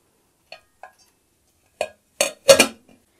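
A spoon stirs a yeast and sugar mixture in a bowl, giving a few sparse light clinks followed by a quick cluster of louder metallic scrapes and knocks against the bowl, close and alone.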